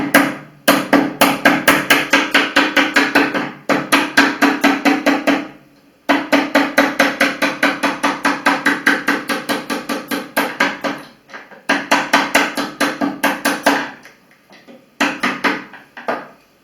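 Large screwdriver tapped gently to drive out washing machine door pins: close, sharp metallic taps in fast, even runs, broken by short pauses between the bursts.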